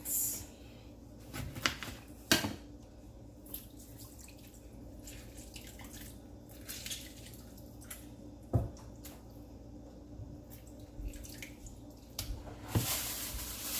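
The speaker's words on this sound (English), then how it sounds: "Wash your meat properly, guys." Raw oxtail being rinsed in water, with soft drips, splashes and wet squishing of meat, fairly quiet and close, punctuated by a few sharper clacks.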